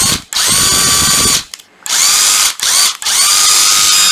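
A cordless National impact driver running in reverse gives loud, close bursts of high whirring and rattling hammering. The bursts are separated by brief pauses, with no talking.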